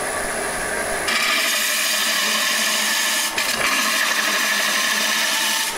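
Wood scrapes and hisses against a lathe tool as a lamp base is turned, a continuous close rasping cut that starts abruptly and runs steadily with a brief dip midway.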